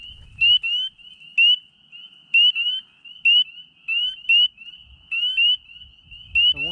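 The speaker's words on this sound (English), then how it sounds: "I saw a spring peeper jump over there." Spring peepers call outdoors, high, piercing peeps repeating steadily in a loose chorus, a few louder single notes standing out, with faint rustling and low handling noise at the start and end.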